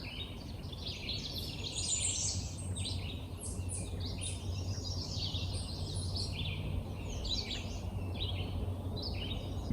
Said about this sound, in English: listen to the birds for a bit